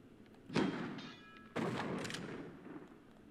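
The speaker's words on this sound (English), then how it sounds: "Let me use the grenade launcher." A grenade launcher firing in Tomb Raider: The Last Revelation: two heavy, booming game shots about a second apart, each with a sharp onset and a rumbling tail, loud and close.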